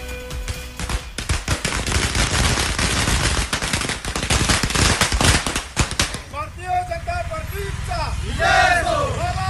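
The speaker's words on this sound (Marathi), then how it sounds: "फटाक्याची आतिषबाजी करण्यात आलेली आहे" Firecrackers burst in a dense, rapid crackling barrage at a political victory celebration with drums, loud and continuous for about six seconds before fading into crowd noise and voices.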